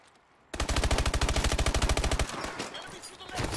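Rapid automatic gunfire in the shooter Call of Duty: Advanced Warfare, a loud, tightly spaced burst of shots lasting under two seconds, then a few looser reports trailing off into room noise.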